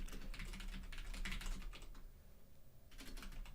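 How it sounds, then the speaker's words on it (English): Rapid typing on a loud, clunky computer keyboard, a quiet, close clatter of keystrokes in bursts with a short pause before typing resumes, no voices. "Especially when you've got a loud, clunky keyboard."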